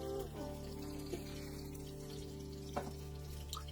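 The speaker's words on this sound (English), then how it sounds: "Add your beef stock." Beef stock is poured into a large pot for braised beef ribs, giving a soft, steady liquid pour with a few faint splashes, quiet and close.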